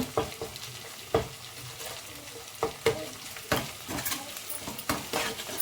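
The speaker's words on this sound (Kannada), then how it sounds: "ತುರಿದಿಟ್ಕೊಂಡಿರೋ ಶುಂಠಿ ಸೇರಿಸ್ಕೊಳ್ಳೋಣ, ಸ್ವಲ್ಪ ಫ್ರೈ ಮಾಡ್ಕೊಳ್ಳೋಣ" Grated ginger fries in oil in a pan for avarekalu upma while a spoon stirs it, repeated sharp scraping strokes at an uneven rhythm over a continuous soft sizzle, close up with no talking.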